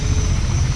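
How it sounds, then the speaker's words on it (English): Steady, loud rotor and engine drone of a heavy Mi-24 Hind attack helicopter in the Desert Combat game, a continuous close thrum with no break. "The Hind helicopter,"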